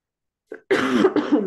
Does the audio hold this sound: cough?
yes